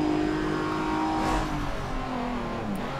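Engine of a C-class race car in Forza Motorsport 7, a steady revving drone with shifting pitch. It stays loud and close for the whole stretch, with no talking.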